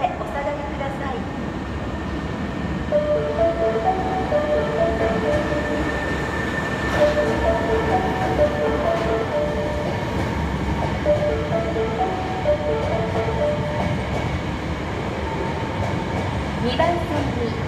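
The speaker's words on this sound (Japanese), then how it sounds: "2番線に到着の電車は準急京都河原町行きです。" A Hankyu 7300 series renewed train on the Kyoto Line runs at a station platform, with a loud rumbling roll, rail clatter and brake tones, while a platform announcement plays over it.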